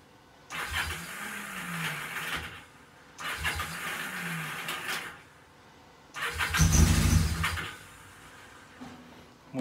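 A starter motor cranks a Kawasaki KZ750 motorcycle engine in three separate bursts of whirring turnover, each lasting about two seconds with short pauses between. The last attempt is louder and heavier, and the engine does not catch.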